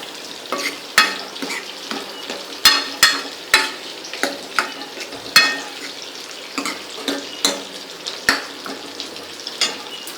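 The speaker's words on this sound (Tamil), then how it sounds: "இந்த வஞ்சிரம் ஃப்ரை பண்ணுறது வந்து ஓரளவு ஃப்ரை ஆச்சுன்னா திருப்பி அப்படியே போடலாம்" Seer fish (vanjiram) frying in a pan, a steady sizzle broken by frequent sharp crackles and pops, with occasional scrapes of a utensil, close and fairly loud.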